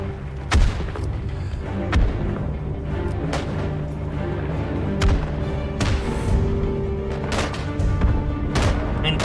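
Machine gun fire in the World War I shooter game Isonzo: repeated loud gunshots and booms land at irregular intervals over a continuous low rumble of battle, with no speech.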